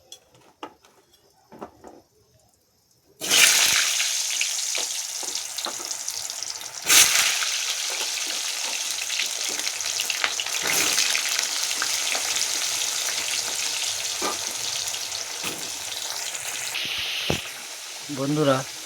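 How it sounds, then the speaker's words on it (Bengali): Potatoes frying in a pan, a quiet start with a few clicks and then a sudden loud burst of close sizzling that settles into a steady crackle, with occasional stirring scrapes. "আলুটা ভেজে নেব।"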